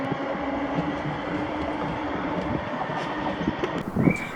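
ScotRail class 318 electric train 318260 passing at Bowling, a steady loud rolling rumble of wheels on track that holds throughout, with a brief sharper burst near the end.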